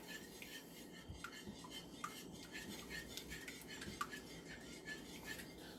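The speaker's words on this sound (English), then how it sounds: "I'm just going to whisk this around just a little bit more, just so I can mix it up" Eggs whisked in a bowl for scrambled eggs, heard as a quiet, steady run of scraping and light clinking strokes, close and fairly soft, with no talking.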